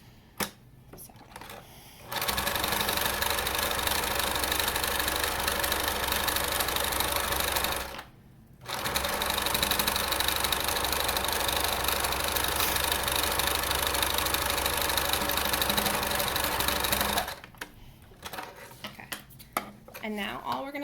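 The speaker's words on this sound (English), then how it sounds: "now we're going to sew the last side of it." A sewing machine stitching the last side of a fabric face mask, running in two long continuous whirring bursts with a brief pause between, loud and close, with quiet handling before and after.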